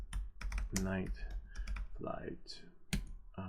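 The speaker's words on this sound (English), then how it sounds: "we'll just type in night flight." Typing on a computer keyboard, with a scatter of quick key clicks mixed with a person talking over them, close and moderately loud.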